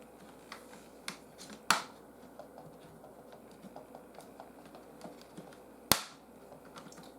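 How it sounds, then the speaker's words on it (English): Plastic clips on a Chromebook keyboard pop loose as it is pried off, with two sharp loud snaps and several smaller clicks scattered across a quiet background. "You're going to hear some pops as the clips release."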